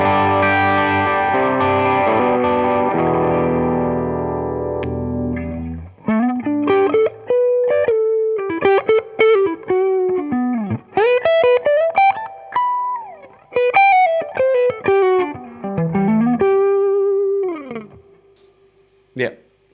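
Electric guitar with humbucker pickups through a Klon-style overdrive pedal: a sustained driven chord rings and fades, then a quick lead phrase of bent and picked single notes follows, loud and close, alone.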